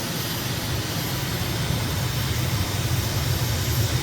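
In a flight simulator set in Mexico, an aircraft engine roars at high revs for takeoff, a loud, unbroken broadband rush holding steady throughout with no speech.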